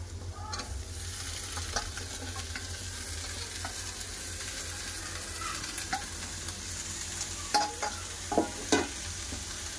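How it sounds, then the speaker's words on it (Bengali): Red greens, prawns and ridge gourd fry in a pan with a soft, steady sizzle, broken now and then by spatula scrapes and a few sharper clanks near the end, quiet and close with no talking. "সব একসাথে ভালো করে কষে নেবো।"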